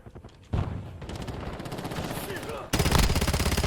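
Rapid rifle gunfire from Call of Duty Warzone rattles in sustained automatic bursts, loud and close, with a heavier, denser volley near the end; no talk over it.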